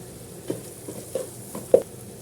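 Chilli powder masala with curry leaves sautéing in a pan for chicken biryani, a faint low sizzle under three soft scraping stirs of the spoon.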